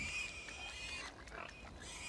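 A cursed pig in the video game Divinity: Original Sin 2 gives faint grunting oinks amid quiet game ambience with a high steady tone, brief squeals scattered across the moment.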